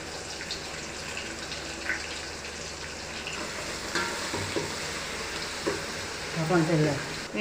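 Onions frying in a pan for coconut milk rice, with cloves and cardamom already in the oil, give a steady broadband sizzle and occasional stirring clatter, with a louder burst near the end.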